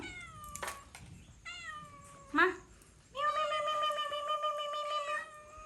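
Cats in an abandoned house meow repeatedly and close by, a series of drawn-out, rising and falling calls ending in one long sustained meow, while a voice calls softly between them.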